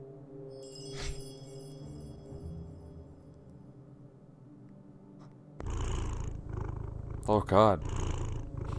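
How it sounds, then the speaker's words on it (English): Deep, rumbling cat purr from a cafe cat in the game Tokyo Dark: Remembrance, starting partway through and running steadily, close and loud, with a brief spoken exclamation over it. "That's some very deep purring."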